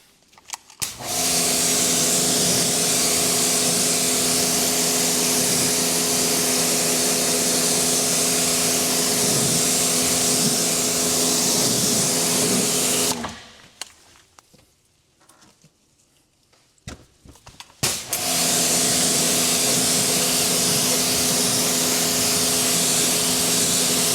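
Pressure water spray rinsing a Tesla Model 3 Performance wheel, a loud steady hissing blast that cuts off for several seconds and then starts again.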